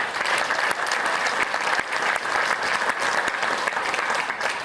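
Steady applause from a high school band concert audience during student recognitions, dense continuous clapping filling the room for several seconds at close range.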